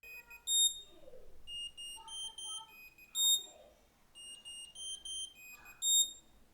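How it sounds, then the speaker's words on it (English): ESR Geo Digital Pencil emitting a Find My locator ping: a repeating electronic chime of bright high beeps in three evenly spaced bursts, clear and close with no talk. "If you misplace it, you can ping it with a sound."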